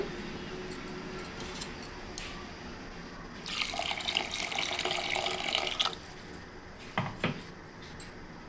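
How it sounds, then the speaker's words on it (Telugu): Half a glass of water is poured into a simmering tamarind curry, a short rushing splash for a couple of seconds amid faint kitchen clatter, with a brief clink afterward. "చింతపండు పులుసు పోసినాక ఒక హాఫ్ గ్లాసు వాటరు వేసుకోండి"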